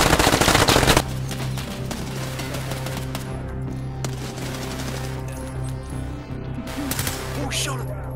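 Rapid automatic gunfire from a shooter video game, a dense burst opening loud, then continuing bursts of shots with mechanical clatter running throughout, steady and close.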